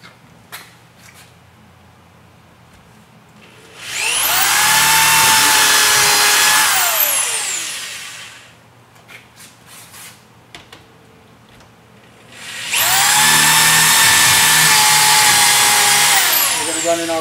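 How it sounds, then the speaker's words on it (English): Power drill boring two holes while a rolling shutter is being installed: two loud whirring bursts of several seconds each, spinning up and winding down, separated by a quiet pause. "we're going to go ahead and drill out our two remaining holes"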